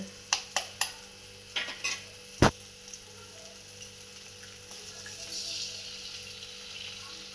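Eggs and masala cook for egg bhurji in a quiet pan with a faint, low sizzle, broken early by a handful of sharp spoon clacks against the pan.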